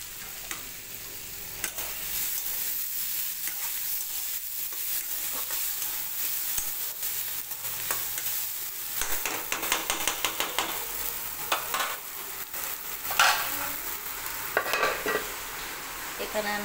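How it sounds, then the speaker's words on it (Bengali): Beans, onion and other vegetables fry in a pan for poha, a constant close sizzle broken by stirring scrapes and clinks that grow busier and louder toward the end, with no voices. "সব রকম সবজি দিয়ে একটু ভেজে নেব।"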